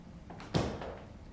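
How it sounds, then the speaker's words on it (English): A single door thumps shut nearby, a short broad knock that fades quickly into quiet room tone. "shut the door"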